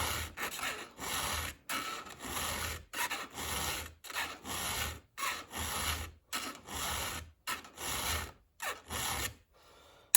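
A round file sharpens a STIHL chainsaw chain in about a dozen regular rasping strokes, each a loud, close, gritty scrape separated by brief pauses, with no talking.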